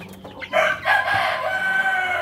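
Month-old Rhode Island Red chicks clucking and squawking up close, a few rising, crow-like calls in quick succession on a small farm.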